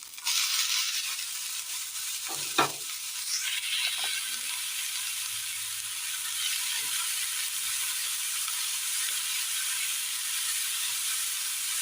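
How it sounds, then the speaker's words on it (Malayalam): Gooseberry (nellikka) thoran with tender curry leaves frying in a pan gives a steady, close sizzle and hiss, with a few scraping stir sounds near the start and the frying continuing alone. "നല്ലതുപോലെ മിക്സ് ചെയ്തെടുക്കാം."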